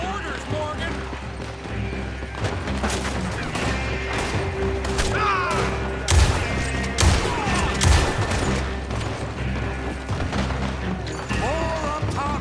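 Gunfire rings out in a Western shootout in Red Dead Redemption II, with scattered shots and heavier booms over a steady background, while characters shout and talk throughout.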